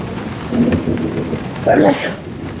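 Thunder rumbles through a heavy rain downpour during a thunderstorm outside a house, the steady hiss of rain swelling with two louder rolling bursts, close and loud.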